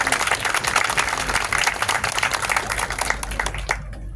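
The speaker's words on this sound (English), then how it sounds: "Let's give them a round of applause." An audience at a community memorial dedication in Santa Ana gives a round of applause, a dense, even wash of many hands clapping that fades out abruptly near the end.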